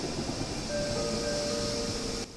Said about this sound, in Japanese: さて、向こうから来たのはこちら